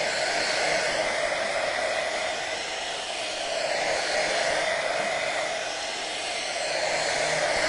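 A hair dryer blows steadily over freshly stained wood, a loud, continuous, close whoosh with no breaks and no one speaking.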